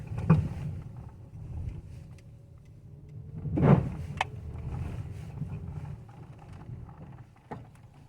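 A Toyota Etios with a noisy suspension rolls over a pothole, giving two sharp clunks about three seconds apart over a low cabin rumble, followed by a fainter knock near the end; no one speaks.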